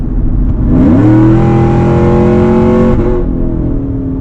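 A Whipple-supercharged 2018 GMC Yukon Denali with a Corsa exhaust pulls away from a light, its loud, close engine note rising steadily and then holding a deep, smooth drone before easing off.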